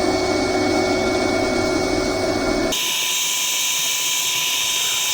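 A Simon Hope Pro Sander whirs steadily, its pitch and tone shifting partway through as it grinds against a cherry wood bowl. No voices.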